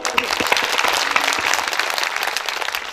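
Loud applause from a devotional gathering at a Bhagavat Katha discourse, dense, steady clapping that fills the whole stretch close to the listener, with no voice rising above it.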